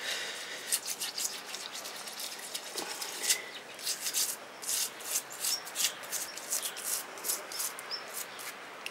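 A metal-detecting find is rubbed and scrubbed by hand in a quiet close space, giving soft, irregular scratchy strokes with small taps, and no one speaking.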